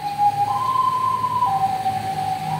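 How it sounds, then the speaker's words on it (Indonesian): Ambulance siren wailing loud and near, its two-tone pitch stepping up and back down in a steady cycle, with traffic rumble underneath and no talk. "Wah, ada ambulan."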